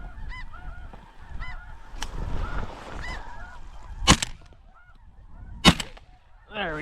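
Snow geese, mostly adults, honking over decoys during a North Dakota blizzard, scattered calls near and far with a couple of sharp loud bursts against windy background noise.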